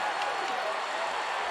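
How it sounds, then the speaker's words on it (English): A stadium crowd in Las Vegas cheers and roars during a Super Mega Baseball 4 game, a dense, steady wash of voices that continues throughout. "Crowd is loud here in Las Vegas."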